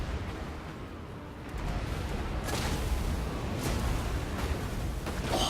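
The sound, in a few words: Skaven warp lightning cannons firing and hitting, Total War: Warhammer 2 video game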